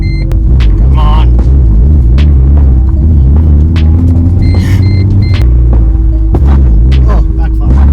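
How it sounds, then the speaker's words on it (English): A turbocharged Mercedes C180 with an M104 engine drones loudly and close, with a deep, throbbing engine note. Several sharp, brief backfire pops break through the drone. "Oh, backfire."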